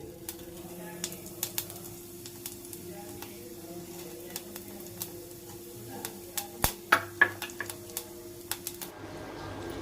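Half a teaspoon of cumin seeds fries in a spoon of oil in a pan, sounding as faint, sparse crackles and sharp pops that cluster more densely near the end over a quiet background.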